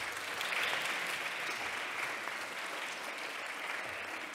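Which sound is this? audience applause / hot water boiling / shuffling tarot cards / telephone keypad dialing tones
audience applause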